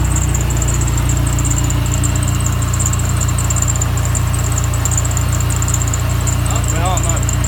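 A car engine idles steadily and loudly after an HKS aftermarket part install, a constant low rumble with a faint high whine that never changes throughout.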